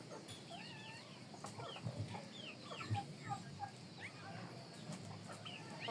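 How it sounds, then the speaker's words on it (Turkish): Quiet clucking from chickens with small chick peeps scattered throughout, soft and somewhat distant against low background noise, at a drinking spot on a village farm. "civcivler de gidiyor su içmeye"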